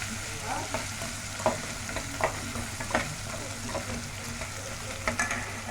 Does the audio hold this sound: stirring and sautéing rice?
yes